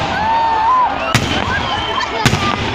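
A holiday fireworks display for Tyumen City Day, with two sharp bangs from bursting shells over a constant murmur of an outdoor crowd and faint whistling rockets.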